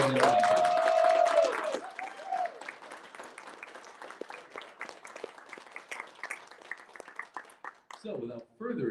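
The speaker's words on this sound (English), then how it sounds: "I want to make sure that they all get a collective huge round of applause for all of their work" Scattered applause from the crowd at the Gary Reed Independent Creator of the Year Awards, honoring the creators. It follows a short electronic tone and is thin and uneven beside a voice, with talking returning at the end.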